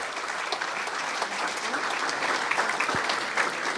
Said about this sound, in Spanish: Un aplauso para Pacheco, que es un siervo del Señor.